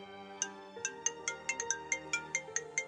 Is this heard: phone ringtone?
yes